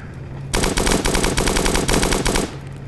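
An energy gun in the space game Starbound fires a rapid, loud burst of shots lasting about two seconds, starting and stopping abruptly against quiet background game ambience.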